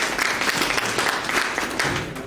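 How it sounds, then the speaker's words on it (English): Audience applause for a presenter at a UIF Commissioner's Breakfast event, a steady wash of clapping from a room of people lasting a couple of seconds without speech. "Let's give him a round of applause."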